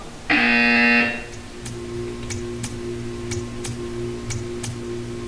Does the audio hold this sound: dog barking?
no